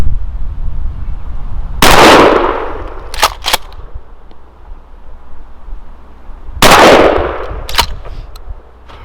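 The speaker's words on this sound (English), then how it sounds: "Remington 870 Tactical with the Carlson full choke ported, and buckshot first, then the target load." A Remington 870 Tactical 12-gauge pump shotgun with a ported Carlson full choke fires twice at 15 yards, buckshot and then a target load. Each loud, booming blast is followed by the sharp clack-clack of the pump action cycling, and no one talks.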